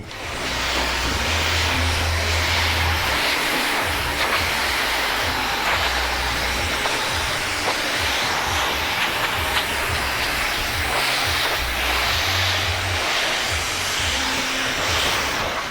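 A hair dryer blows on freshly cut thick hair in a barbershop, a loud continuous whooshing rush that holds steady for the full length, with no voices.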